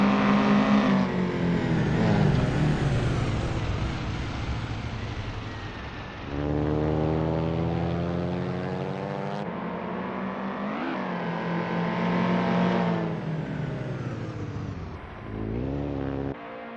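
A classic touring car engine in Assetto Corsa drones steadily on an out lap at Union Island, with clear rising and falling revs through gear changes, loud and continuous with no talking.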